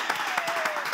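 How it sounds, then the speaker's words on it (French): Studio audience applause rising to greet guests on a French television set, a dense, steady patter of many hands clapping close by for about a second. "On les accueille avec des applaudissements,"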